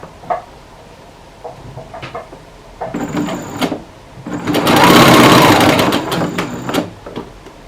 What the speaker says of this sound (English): we are seaming the side seam now.